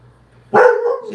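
A dog lets out a single loud, close bark, sharp at onset and trailing into a yelping tail, after a quiet moment of low indoor hum.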